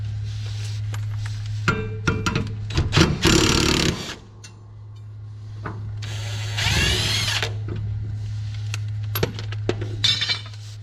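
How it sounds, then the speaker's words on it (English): A DEWALT impact wrench spinning bolts off lawn mower blades on a DEWALT Z260 mower: two loud, close bursts of whirring, rattling hammering, separated by metallic clinks and handling noise over a steady low hum. "Love this impact wrench."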